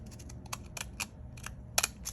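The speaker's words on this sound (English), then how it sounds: "I'm gonna come from this edge up to this edge with the decorative scissors" Decorative deckle-edged scissors snip along the edge of a paper page in a faith journal, making a series of short, crisp cuts in an irregular rhythm, close and fairly quiet with no talking.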